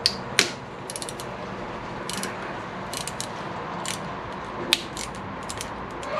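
Ratchet clicks in short bursts while loosening a bolt on a Yamaha Tenere 700 motorcycle, with sparse sharp metallic ticks and a couple of louder clacks over quiet room noise.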